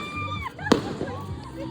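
A single sharp firework bang at a fun run trail event in Biabas, Ubay cuts through tonal whistling and background voices of a crowd.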